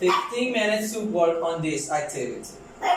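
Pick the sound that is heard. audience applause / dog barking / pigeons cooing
dog barking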